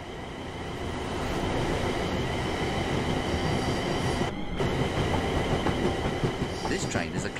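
A Class 350/1 Desiro electric multiple unit train in a video game rumbles steadily along the track, wheels clicking rhythmically with a faint squeal, the sound continuous and fairly close with a brief dropout midway.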